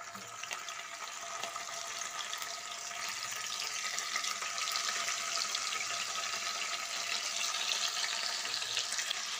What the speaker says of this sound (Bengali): এবার গরম তেল ও ঘিয়ের মধ্যে পনিরগুলোকে দিয়ে দিচ্ছি।